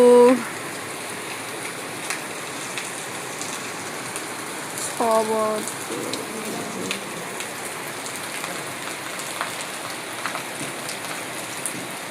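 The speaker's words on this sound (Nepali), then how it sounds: "हेर्नु यति ठुलो पानी आएको छ" Heavy rain drums steadily on surfaces in a village, a continuous wash of drops, while brief voices speak near the start and again midway.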